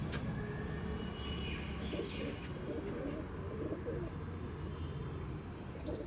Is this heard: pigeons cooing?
yes